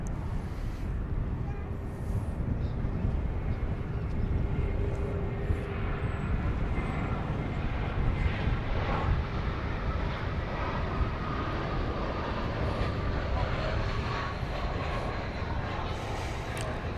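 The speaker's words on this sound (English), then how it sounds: "This is flight 2549 to Denver, an Airbus A320neo with Eccles the Ermine there on its tail." Frontier Airbus A320neo jet on flight 2549 to Denver at Dallas Fort Worth Airport, a steady moderate engine rumble and rush filling the whole stretch, with faint voices at times.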